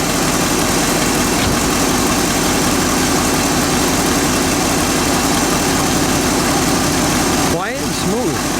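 A 1967 Ford Galaxie 500's 428 cubic inch V8 engine idles steadily and loudly with a low, even rumble after kicking down from fast idle, with a brief shuffle of movement near the end.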